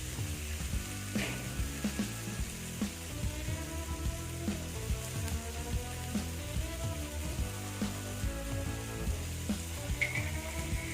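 Fish frying in a pan after green pepper masala and curry leaves have cooked down, giving a steady sizzle with soft scraping and clinks throughout, no talking.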